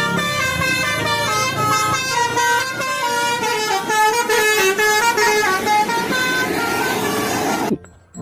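An intercity daily-service bus sounds its musical multi-tone air horn loudly and close, a long melodic sequence of shifting notes that plays for several seconds before cutting off abruptly.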